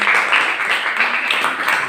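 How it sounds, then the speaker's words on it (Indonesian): Classroom applause for a student presenter, a short burst of steady clapping from a group, close and fairly loud. "Oke, tepuk tangannya buat Mbak."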